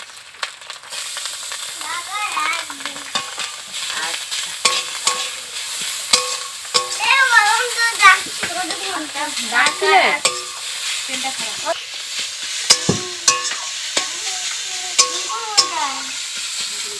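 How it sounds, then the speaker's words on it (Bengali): Cut carrots stirred into a pan of frying ginger, green chilli and onion, a loud continuous sizzle with repeated scraping and clattering stir strokes throughout. "আমি আদা, কাঁচা লঙ্কা ও পেঁয়াজটাকে খুব ভালো করে ভেজে নিয়েছি। এখন কেটে রাখা গাজরটাকে দিয়ে দেবো।"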